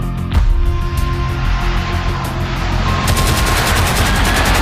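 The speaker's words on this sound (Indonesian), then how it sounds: "dihujani bom dan tembakan mitraliur oleh pesawat terbang Belanda" Dutch aircraft attack a city at night with bombs and machine-gun fire, heard as dense, continuous rapid gunfire over a heavy rumbling roar that stays loud throughout and intensifies toward the end.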